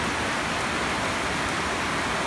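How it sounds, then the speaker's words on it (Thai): Heavy rain pours steadily in Wiang Kao district, Thailand, a dense, loud, unbroken hiss of falling water with no other sounds. "เพราะว่าฝนตกแรงครับผม"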